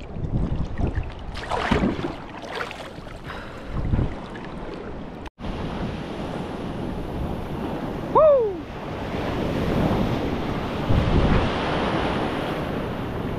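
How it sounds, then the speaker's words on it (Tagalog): Strong wind at sea roars and buffets the microphone on a fishing boat, with waves washing steadily underneath and a sharp knock partway through. No one speaks. "Medyo malakas yung hangin ngayon."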